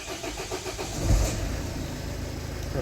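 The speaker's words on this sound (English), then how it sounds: "turn the ignition off, back on, I'll start it again" A 2008 Renault Trafic van's diesel engine cranks and catches, then settles into a steady, fairly loud idle close by, with no talk.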